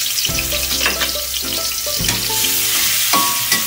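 Chillies and garlic stir-frying in hot oil, a loud, dense sizzle right up close, with scraping stirs and small clinks running through it and no voices.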